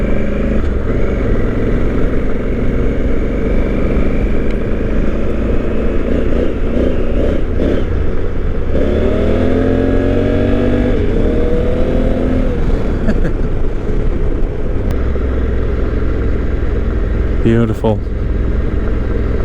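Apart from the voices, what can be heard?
2020 Honda Africa Twin motorcycle riding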